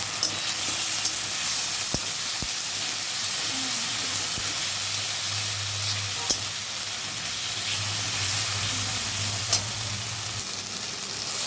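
A spice paste of garlic, onion and ginger with two green chillies and some tomato fries in a pan, hissing continuously at close range with occasional sharp clicks and scrapes from stirring.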